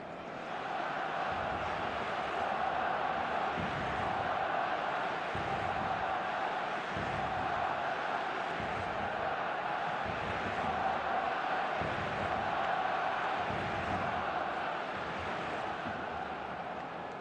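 A continuous stadium crowd roar from an eFootball video game match, dense and steady throughout, with a faint rhythmic chanting pulse underneath.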